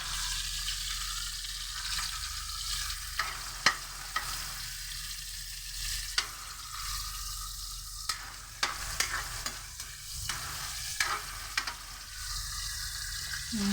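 Garlic sautéed in a pan for patola with sardines: continuous oily sizzle broken by repeated sharp stirring clicks and scrapes of a utensil against the pan, close up with no voices.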